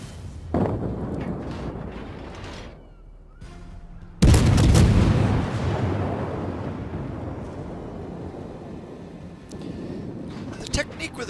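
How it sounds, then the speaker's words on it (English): Armor-piercing shell salvo from the cruiser Belfast in a naval battle video game: a sudden loud booming volley of gunfire with a long rumbling decay, preceded by engine and wind noise and scattered smaller shots, with a voice talking throughout. "Shooting, that was a AP salvo"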